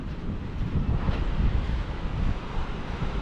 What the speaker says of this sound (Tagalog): Oh, nalaki na yung alon.